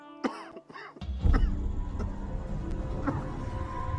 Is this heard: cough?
yes